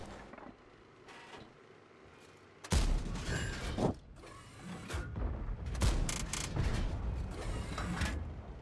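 A Char Murat tank in World of Tanks reloads and drives off: quiet mechanical clicks and ratcheting give way to a sudden loud boom and rumbling engine and track noise, with further heavy bursts and clanks.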